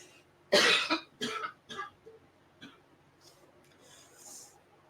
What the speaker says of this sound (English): Hold on, I got a cough real quick.